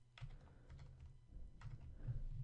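Keystrokes on a computer keyboard while writing HTML code, a steady run of close, fairly quiet clicks and taps with no voice over them.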